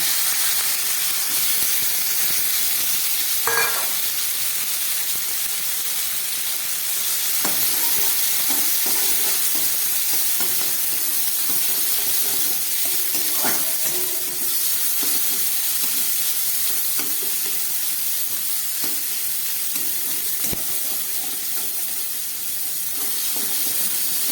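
Dried fish frying in oil hisses continuously, with a spatula stirring through it in scattered scrapes and knocks.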